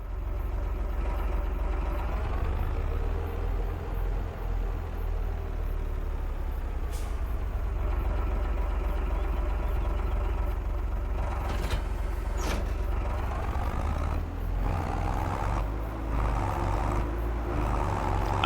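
A truck hauling grain trailers in Farming Simulator 25 rumbles steadily with a deep engine drone throughout, punctuated by a few sharp air-brake hisses.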